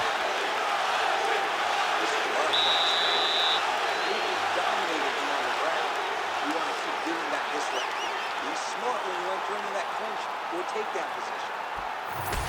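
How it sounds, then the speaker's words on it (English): Crowd at an MMA fight cheering and applauding between rounds, a dense, steady roar of voices and clapping filling the arena, with a commentator talking faintly over it. "the crowd voicing its appreciation after that crazy sequence in the previous round"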